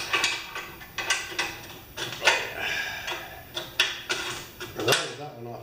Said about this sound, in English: Let's just get a 1/2 inch wrench, make sure they're tight.